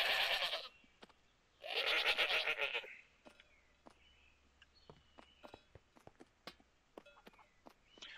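Two loud, close bleats from a sheep in the video game Dawncraft, the second longer and wavering. They are followed by soft footsteps and scattered clicks, with no voices.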